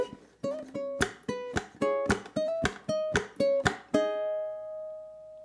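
Ukulele plucks a melody across bars 47 into 48, a quick run of bright single notes and strummed chords that ends on one sustained ringing note, played solo and up close.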